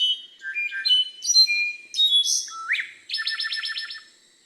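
A slate-colored solitaire sings clear, flute-like whistled phrases with bright metallic notes and a fast repeated trill at the end, ringing out alone in a misty forest.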